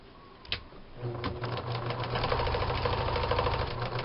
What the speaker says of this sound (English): I'm sewing the heart shape.